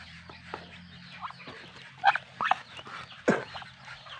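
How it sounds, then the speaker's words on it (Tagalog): Small ducklings and native chickens on a Philippine farmyard cluck and peep in scattered bursts, several sharper calls standing out near the middle against a low background hum. "Yung maliliit na pato."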